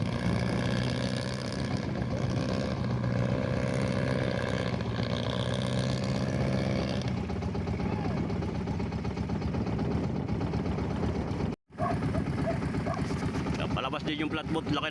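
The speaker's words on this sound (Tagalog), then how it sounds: "Flatboat, laki ng makina." Big-engine flatboat at Jose Panganiban, Camarines Norte, a steady motor drone with water and wind noise, fairly loud and continuous, while people talk over it.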